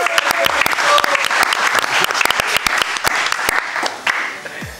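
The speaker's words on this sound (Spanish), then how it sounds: "Un aplauso para él." An awards audience applauds Pedro García with dense, steady clapping close by that thins toward the end, while a voice speaks briefly over it.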